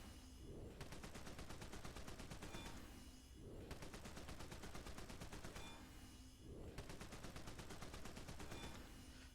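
Rapid minigun fire from the DC Universe Online game, a dense continuous rattle of shots that swells and dips in bursts, loud and steady throughout with no talking.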